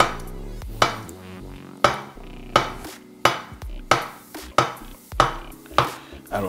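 A knife cuts potatoes on a board, giving a steady series of about nine crisp, close chops that each land with a sharp knock, spaced under a second apart, with no talking.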